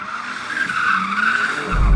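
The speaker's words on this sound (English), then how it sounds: "the best way to acquaint myself with the car is to drift it before doing anything else" A BMW M4 drifts on tyres that squeal and skid in a sustained high whine over the engine's low roar, which swells louder toward the end.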